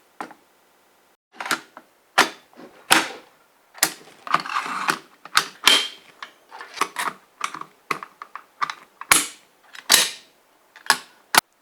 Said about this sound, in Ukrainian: Затягнемо 4 торксові гвинти.